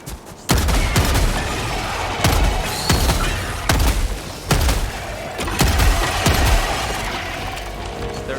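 Shotgun blasts in Helldivers 2, about seven loud sharp reports spaced roughly a second apart, each with a short ringing tail over steady battle ambience.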